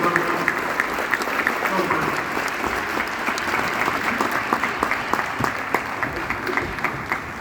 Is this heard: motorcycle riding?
no